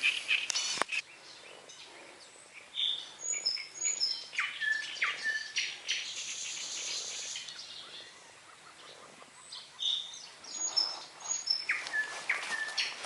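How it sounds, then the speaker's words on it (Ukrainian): Melodic nightingale song rings out at dawn beside the water during a quiet fishing outing, with bright repeated phrases and chirps rising and falling throughout, moderately near, with no talking. "А тут соловейка."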